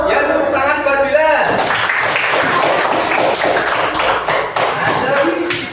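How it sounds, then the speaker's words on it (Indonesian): A classroom of students claps for a classmate, a dense patter of hand claps that swells after a short spoken line and carries on steadily, with voices mixed in. "tepuk tangan buat Bila"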